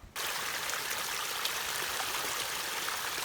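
A stream flows steadily at a water crossing on the Appalachian Trail in the Great Smoky Mountains, a continuous close rushing and trickling of water with no voices.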